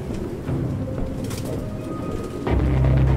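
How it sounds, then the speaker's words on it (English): Pigeons coo repeatedly in a game scene of Detroit Become Human, a soft, low cooing flock heard close by with a steady murmur of birds, growing fuller and louder near the end. "No human could live with all these fucking pigeons."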